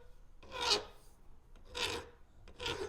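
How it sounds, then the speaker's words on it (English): A metal file smooths soft copper on a handmade knife clamped in a vise. Three distinct rasping strokes sound close and clear, each a short scraping rub with brief pauses between. "I like to put it back in the vise with a file and just go around and clean up that copper"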